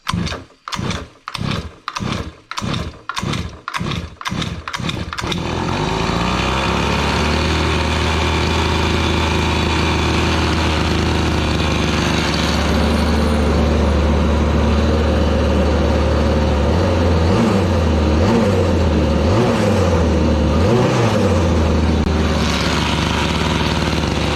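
A gas-powered Razor dune buggy engine is pull-started with about eight quick, rhythmic rope tugs, then catches and runs with a loud, steady, buzzy small-engine drone, with a few throttle blips near the end.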